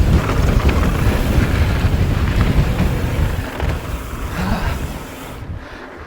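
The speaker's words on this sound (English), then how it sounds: "Oh, the wind is robbing my speed." Heavy wind roaring across the microphone while riding a 2022 Rocky Mountain Element mountain bike on a trail, loud and continuous, easing slightly toward the end.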